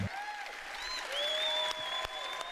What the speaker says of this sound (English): A polite applause.